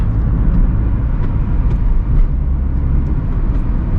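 A Suzuki Swift accelerates hard along a quiet forest road, its engine a loud, sustained roar with a few brief higher crackles scattered over the steady drone.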